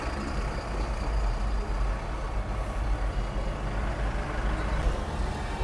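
Heavy highway traffic in hot sun rumbles continuously with trucks and buses, a dense, steady low roar of engines and tyres close by, without any voices.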